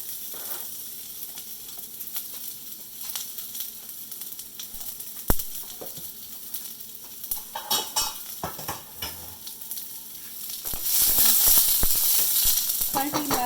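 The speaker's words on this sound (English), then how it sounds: "Saute it for a few seconds. then I'll put onion." Chopped onion sautéing with garlic in a pan over a medium gas flame while making bread poha, a steady close sizzle broken by scraping stirs and clinks of a spoon against the pan.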